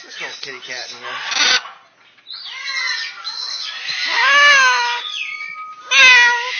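A pet imitates a cat, producing a string of drawn-out, wavering meows and yowls in an operatic, singing style, loud and close, with short pauses between calls.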